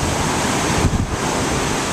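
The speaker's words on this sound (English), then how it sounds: "Oh, those wildwood waves." Ocean waves break and wash steadily onto North Wildwood beach, a continuous broadband roar of surf with wind buffeting the microphone, swelling briefly around one second.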